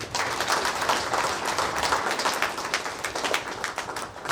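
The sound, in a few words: audience clapping after mass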